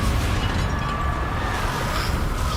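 A Confringo blasting spell explodes in a Hogwarts video game, a dense, rumbling roar of broadband noise that holds steady and loud without a sharp single crack.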